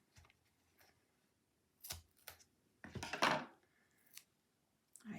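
Scissors snip a thin strip of tape while making glider cards, giving a few short, crisp cuts and rustles that are close and fairly quiet. The cuts are spaced over a few seconds with pauses between them.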